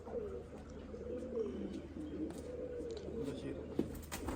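A crop-bearing pigeon that has just landed after a flying contest gives soft, low, wavering coos that run continuously and faintly beneath outdoor voices.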